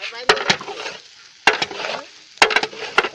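Rice dry-fried and stirred in a pan at a home kitchen in the morning: three sharp scraping strokes with sizzling rasp between them, close and fairly loud.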